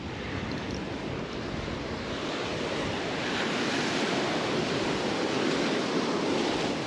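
Surf pounds a beach while someone fishes from the shore, a continuous loud wash of breaking ocean waves with wind roar that swells slightly louder in the second half.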